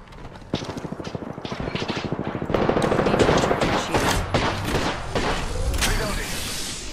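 Rapid automatic gunfire in Apex Legends: a steady stream of close, loud shots, thickening into heavier overlapping bursts and impacts as the fight intensifies.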